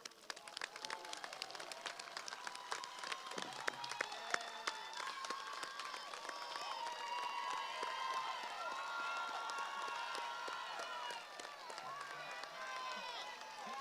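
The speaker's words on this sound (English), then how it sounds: "Let's give them another round of applause." Sustained applause from a large crowd at a high school graduation ceremony, steady dense clapping that swells and holds throughout, with scattered cheers.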